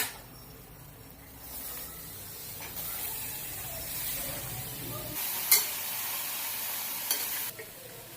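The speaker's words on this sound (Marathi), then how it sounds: "आता आपण ही गवार भाजून घेऊया।" Cluster beans (guar) dry-roasting in a kadai, with a soft steady hiss and scraping stirs. A couple of sharp clinks ring out near the end, and there is no talk.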